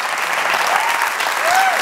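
A live talk-show audience claps loudly and densely for the guest Ariel Sánchez, a close, sustained burst of applause with faint voices mixed in.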